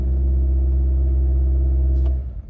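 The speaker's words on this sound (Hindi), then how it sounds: "अगर बूस्ट देते हैं तो इंजन का साउंड आप सुन सकते हैं।" Honda Civic RS turbo engine with a faulty turbo held under throttle, a loud, steady low drone with strong harmonics that stays flat rather than climbing, then drops off as the throttle eases near the end.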